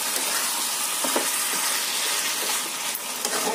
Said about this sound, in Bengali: মিশিয়ে দিয়ে আবার এটা কষাবো ভালো করে